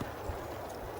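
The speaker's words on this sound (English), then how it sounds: "This is our little baby horse friend that's keeping up with mama" A foal's hooves clip-clop on a trail along the Chirripo River in Costa Rica, faint and distant under steady outdoor background noise.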